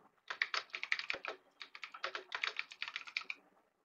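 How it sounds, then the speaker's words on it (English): Steady, brisk typing on a computer keyboard, a rapid run of close, crisp key clicks with brief pauses, heard alone without speech. "So directly I'll be typing something."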